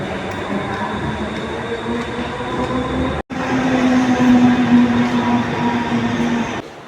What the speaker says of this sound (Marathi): चला कुठची ट्रेन आली ती बघूया.